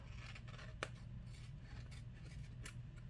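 Scissors snip off excess material with a few quick, faint cutting scrapes, one sharper snip standing out, in a quiet room with no talking.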